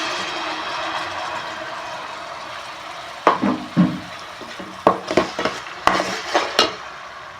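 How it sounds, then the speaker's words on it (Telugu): Tomato paste sizzling with fried onions in a pan, a steady frying hiss under intermittent scraping strokes of a spoon stirring, close and fairly loud. "ఈ టమాటా అంతా పచ్చివాసన అంతా పోయే వరకు పేస్ట్ మనం వేపుకోవాలి"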